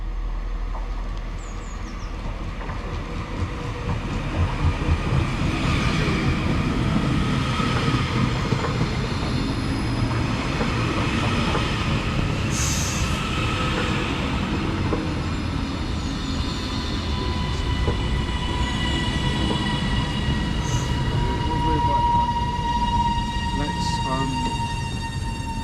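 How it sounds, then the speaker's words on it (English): TransPennine Express Class 397 unit 397011, the Edinburgh to Manchester Airport service, passing through Lancaster station: a loud, sustained rumble of wheels and motors with faint squeals, steady throughout with slight swells. "coming in now is going to be the 12:15 Transpennine Express service from Edinburgh to Manchester Airport"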